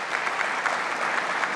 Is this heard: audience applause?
yes